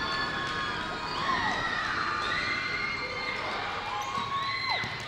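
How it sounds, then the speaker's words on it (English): A high school girls' basketball crowd in a gym cheers and shouts in ovation, with voices rising and falling and sneakers squeaking on the court, steady and moderately loud throughout. "she gets a big ovation from the crowd as well for her performance"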